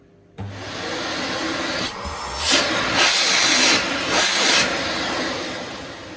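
A commercial 1200-watt Nilfisk GM80 vacuum cleaner starts abruptly and runs with a loud, steady whooshing roar, its pitch swelling a few times as the nozzle moves.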